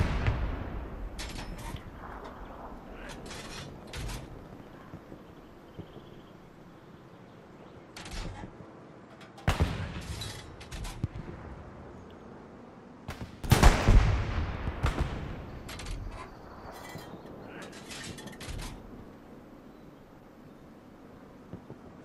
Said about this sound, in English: Bombing run